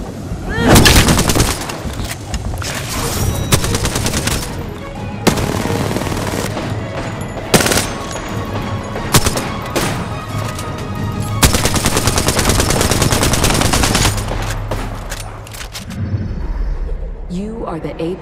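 Rapid gunfire from the video game Apex Legends rattles in sustained automatic bursts with heavier booming shots, nearly continuous for most of the stretch, while players talk over it.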